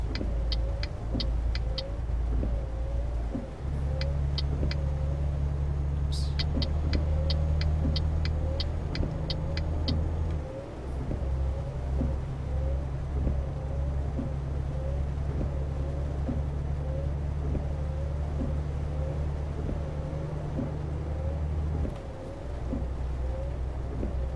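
Truck engine in Euro Truck Simulator 2 with the ProMods map, driving steadily: a continuous low, loud engine drone with gear-change dips, a repeating rhythmic ticking like an indicator, and a few faint clicks, no talk.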